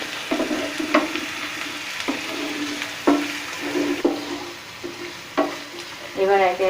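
Onion frying in a pan: a steady sizzle broken by regular scraping stirs about once a second, with a brief voice-like tone near the end.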